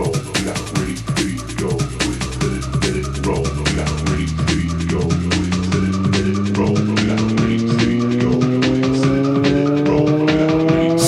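A synthesizer riser sweeps steadily upward in pitch, growing wider and grittier over a pulsing beat, loud and continuous throughout.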